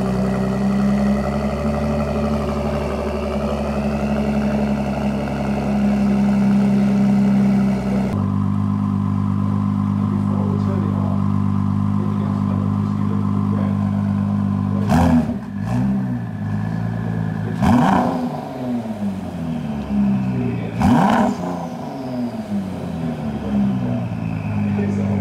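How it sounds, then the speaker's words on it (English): A 2019 Ford GT's engine fires up with a loud burst, then settles into a rumbling idle before several sharp revs climb and fall close by, with people talking over it. "The engine is fired."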